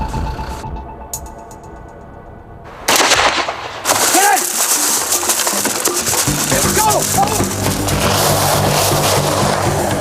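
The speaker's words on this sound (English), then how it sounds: "one of the Mostovian police officers accidentally fires his weapon" A Mostovian police officer's weapon goes off by accident: after a quiet stretch, a sudden loud bang hits, followed by a dense burst of crackling, rattling gunfire-like noise that carries on to the end.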